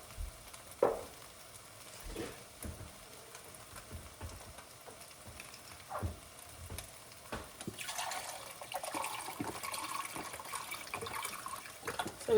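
Broth poured into a pot of vegetables for creamy potato and ham soup. A few clatters come first, then a steady splashing pour takes over for the last few seconds, moderately loud with no talking.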